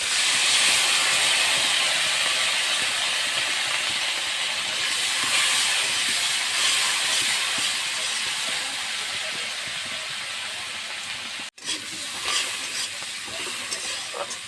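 Chopped onions frying in a little oil for a kochu flower dish, giving a steady loud sizzling hiss close up, with a brief cut near the end and no talking.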